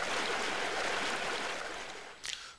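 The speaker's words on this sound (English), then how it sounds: "Plus you got your water fountain right here." A water fountain on the Counter-Strike map de_desert_sanctuary splashes in a steady, hissing stream, moderately close and fading slightly toward the end, with a brief sharp click near the close.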